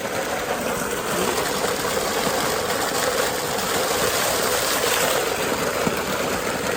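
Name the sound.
water falling from a waterfall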